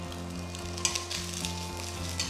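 Curry leaves sizzling in hot oil with coconut and mustard, a steady crackling fry with a constant background hum, close and even throughout.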